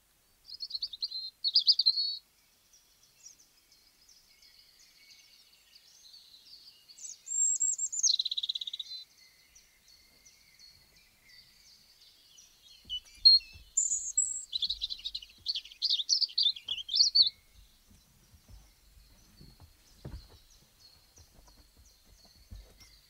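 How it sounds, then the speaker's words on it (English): A robin singing alone in a quiet setting, with short bursts of high warbling phrases separated by pauses and some faint low rustling near the end. "And here's the robin, our final bird."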